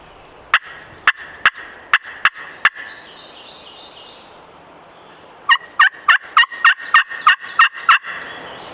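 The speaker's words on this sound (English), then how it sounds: "there's a tom up in the food plot gobbling" A wild turkey tom gobbles from a food plot. A string of sharp, rattling gobbles comes at a steady pace, then after a quiet gap a second, faster and louder burst of about nine follows.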